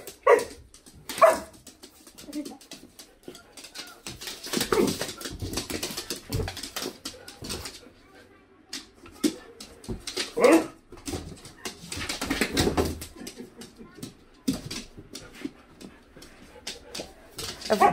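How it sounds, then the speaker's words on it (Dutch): A dog gives repeated shrill, high-pitched barks at close range in bursts across the whole stretch, with a few whimpers and a person talking intermittently underneath. "wat heb jij een schelle blaf"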